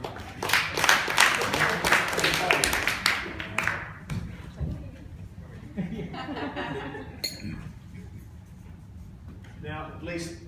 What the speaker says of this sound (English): Round of applause to Sylvie.